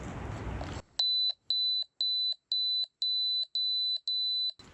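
A series of seven sharp, loud electronic beeps in a steady rhythm, each about a third of a second long, from a carbon monoxide alarm being tested with its test button at a winter campsite.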